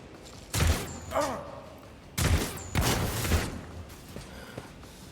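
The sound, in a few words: cover blown up by gunfire in Warhammer 40,000: Rogue Trader video game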